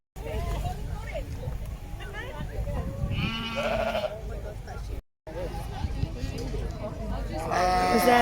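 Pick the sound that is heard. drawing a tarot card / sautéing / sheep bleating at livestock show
sheep bleating at livestock show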